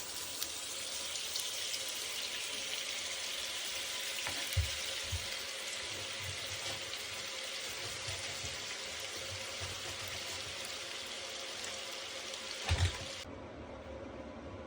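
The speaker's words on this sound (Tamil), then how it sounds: "எண்ணெயும் பட்டரும் கொதிச்சிட்டுது." Oil and butter sizzle steadily in a frying pan, a close, continuous bubbling hiss with a couple of brief knocks near the end and no talking.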